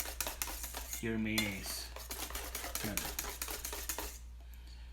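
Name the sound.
whisking aioli in a bowl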